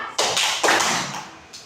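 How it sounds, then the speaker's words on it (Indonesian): A classroom of pupils clapping in a clapping game, a couple of quick sharp claps in close succession, then a fainter clap near the end, in a quiet room. "Oke, tepuk pagi. Ingat, hanya sekali."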